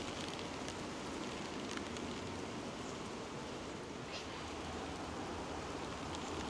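Hail of small ice pellets falling outdoors and bouncing off steps, a dense, continuous hiss of tiny impacts with occasional sharper clicks, steady and close, with no voices.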